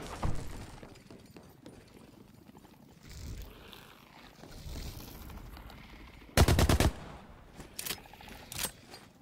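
Gunfire in The Cycle: Frontier, with a few faint shots early on and then a loud, close burst of rapid shots followed by several more sharp bangs. A low in-game ambience runs underneath and no one talks.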